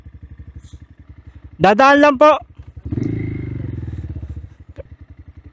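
Idling motorcycle engine on a road between San Mateo and Antipolo, a steady low pulsing throb running throughout beneath a voice and a second voice, loud and close.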